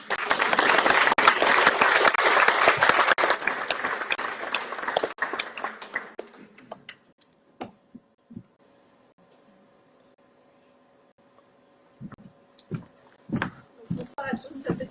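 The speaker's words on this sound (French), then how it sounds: "j'aimerais vraiment que vous applaudissiez toute l'équipe qui a organisé la conférence." An audience at a perinatal chiropractic conference gives the organizing team a dense, loud round of applause that fades out after about six seconds, followed by quiet and a few scattered knocks and movements.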